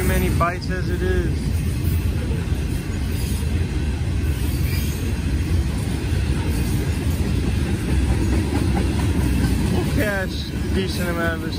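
A freight train passes by a trackside spot in Muncie, its continuous rumble and rolling wheel clatter loud and near throughout, with brief higher tones near the start and end and voices now and then.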